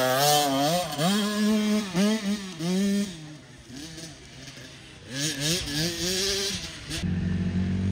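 An off-road dirt bike revs and idles at a sprint enduro, its engine note rising and falling in repeated throttle blips nearby, with a brief voice at the end.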